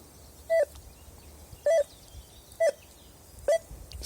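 A metal detector gives four short, clean electronic beeps over a target in the ground, evenly spaced about a second apart, clear and close above a low background hiss.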